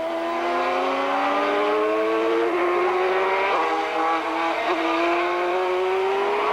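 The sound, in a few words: Formula 3000 race car spinning out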